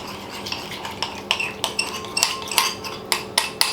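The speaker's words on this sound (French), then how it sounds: "on va bien mélanger pour que les médaillons soient tous assaisonnés correctement" Seasoned medallions get stirred in a frying pan, with a run of sharp, irregular utensil scrapes and clinks against the metal set over a low background sizzle.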